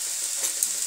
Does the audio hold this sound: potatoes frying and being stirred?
yes